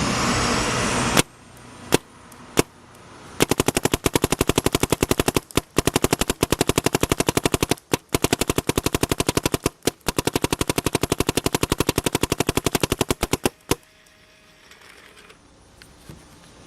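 A PM8 paintball marker fires a few single shots, then long rapid-fire strings of sharp, loud cracks broken by short pauses, before the shooting stops and only a low background hum remains.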